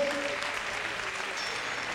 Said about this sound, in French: Applaudissements pour la vice-championne qui quitte le palais des sports de Besançon